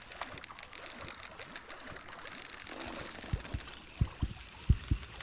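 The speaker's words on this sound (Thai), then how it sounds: "อุ้ยหัวใจเต้นด้วย" Heartbeat effect in BassMaster Fishing 2022 while a catfish is being reeled in: the second half holds a run of soft, low thumps in uneven pairs, coming in after a stretch of water and reel ambience.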